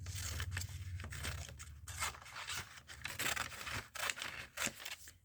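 Scissors snipping through paper at a crafting table, a run of short crisp cuts and rustles close up, with brief pauses between snips and a faint low hum underneath.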